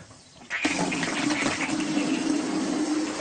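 A water tap on a farm is turned on, and water suddenly gushes and runs steadily, splashing close by after a brief quiet start, with no talk.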